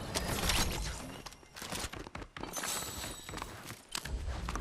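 Footsteps in a shooting video game, a quick run of soft, uneven steps with creaky mechanical clatter, fairly quiet and continuous with a few brief dips, no talking.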